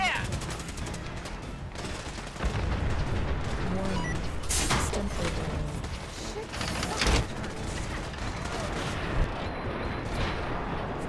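Gunfire in the video game Fallout 4, steady rapid shots and heavy booms packed into continuous combat noise, loud and dense throughout with game sounds layered beneath.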